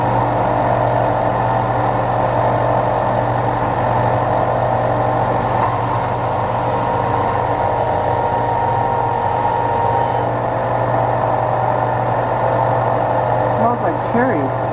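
A sander shapes a cherry wood knife handle with a constant, droning motor hum that stays loud and steady throughout, with muffled voices mixed in.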